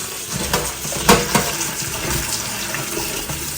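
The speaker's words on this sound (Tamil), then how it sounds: "நல்ல ஒரு நாலஞ்சு தண்ணியில் கழுவினா தான்" Running water splashes steadily over leeks being rinsed, with irregular sloshes and clatters close by, no talking.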